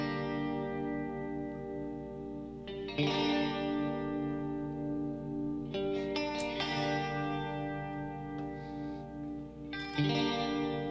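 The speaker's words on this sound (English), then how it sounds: "a real Strat, played through an HD 500, Fender Twin, some processing, some chorus, some delay, some reverb" Electric guitar chords from a Stratocaster played through an HD 500 and a Fender Twin amp ring out with shimmering chorus, echoing delay and spacious reverb, new strums every few seconds letting notes sustain and fade.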